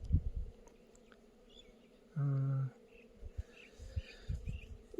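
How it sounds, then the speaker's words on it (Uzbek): A single close, low buzz of a bee sweeps past briefly near a hive amid faint outdoor rustling and soft higher insect hums. "arilar chiqishni boshlabdi bugundan boshlab."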